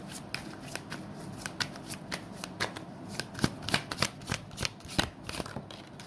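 Tarot cards shuffled by hand, a steady run of crisp, close riffling snaps repeating at a quick, uneven rhythm over a faint background.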